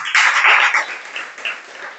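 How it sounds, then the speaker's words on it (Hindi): An audience claps at a religious discourse: a short burst of applause that swells quickly, then fades into scattered claps, all somewhat muffled and distant. "इस पर ताली बजाई"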